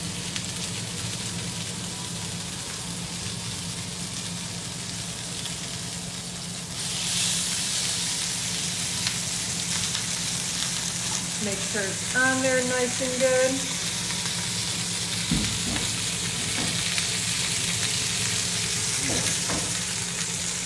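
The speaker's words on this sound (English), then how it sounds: "You want to hear that sizzle." Pork chops hit a hot pan, bursting into a loud continuous sizzle that holds steady while someone talks over it and something is briefly moved in the pan.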